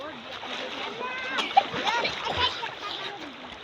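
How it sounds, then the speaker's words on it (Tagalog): Someone swims in a cold river, making soft splashes and sloshing water at close range, with a sharp splash midway and voices talking over it. "Mag-swimming na ako guys."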